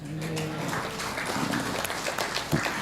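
An audience at a religious lecture in Semarang breaks into a brief, dense burst of applause, moderately loud and steady for a few seconds with a voice briefly mixed in.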